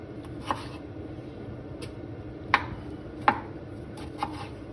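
A knife cutting a fresh tomato on a board for salad, four sharp separate chops spread over a few seconds above a low steady background hum.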